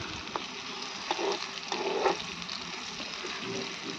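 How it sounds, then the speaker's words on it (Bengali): Thick slices of bitter gourd fry in oil with a soft, even sizzle and occasional faint pops and light stirring, fairly quiet and with no speech. "মোটা মোটা করলা ভাজা।"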